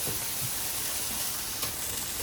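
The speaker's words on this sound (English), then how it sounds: "we want that sizzle. That's the sound that we want because we want it to char." Steady, crackling sizzle of corn charring in a hot pan, close up and continuous, with no talking.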